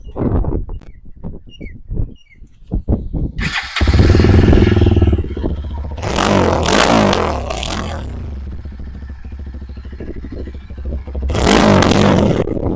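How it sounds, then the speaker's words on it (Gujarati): A Jawa Bobber's single-cylinder motorcycle engine with twin silencers starts with a loud burst, then idles with a thumping rumble and is revved hard twice, loud and close. "ખતરનાક અવાજ છે બે સાયલેન્સર છે મિત્રો ગાડીમાં સિંગલ સિલિન્ડર એન્જિન છે"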